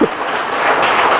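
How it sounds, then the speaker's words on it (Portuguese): A church congregation applauding during a worship service, a dense, steady roar of many hands clapping together, loud and close, with no pauses. "Aplauda ao Senhor e agradeça a Ele por essa palavra."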